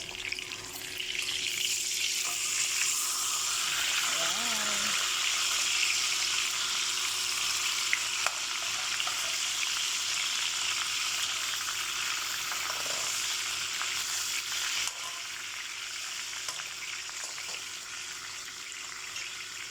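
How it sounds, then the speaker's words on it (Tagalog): Marinated pork chops frying in a pan give a steady, close sizzling hiss that runs without a break for about twenty seconds, with a faint clink partway through and no talking. "piniprito ko yung minarinate kong pork chop"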